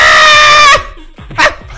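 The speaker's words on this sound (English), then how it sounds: "I gotta scream!" A person screaming loudly while playing World's Hardest Game: one long, piercing, sustained shriek close to the microphone, then a brief pause and a shorter second yelp.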